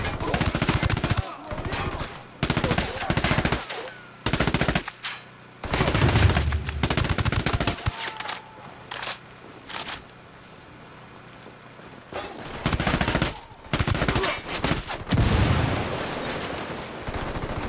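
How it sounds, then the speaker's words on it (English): Bursts of submachine gun fire in Ghost Recon Wildlands, loud and repeated in short rattling volleys separated by brief pauses, with a quieter stretch in the middle before the shooting resumes. "I got a target carrying submachine guns."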